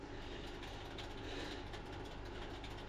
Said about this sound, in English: But there's a train running by.